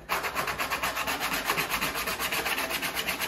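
120-grit sandpaper wrapped on a 5/8 inch socket, hand sanding a car body line during lowrider paint prep, makes a close, steady rasping rub in quick regular back-and-forth strokes, with no talking.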